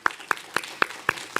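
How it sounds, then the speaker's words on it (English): Six separate, evenly spaced hand claps ring out at a steady beat in a conference room as the fellows' presentation on Capitol Hill service ends, sounding like a few people clapping rather than full applause. "let's give a warm round of applause for our fellows for their presentation"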